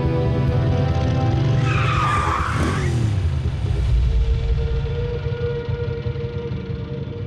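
Engines roar loudly throughout as vehicles in the Transformers: Prime cartoon drive close by, with a sharp tire skid squealing in the middle, no voices.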